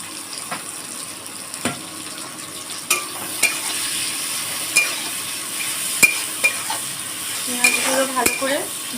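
Onions fry in oil with potatoes and spices under a steady, soft sizzle, punctuated by regular sharp taps and scrapes of a spatula against the pan; a louder burst of stirring comes near the end.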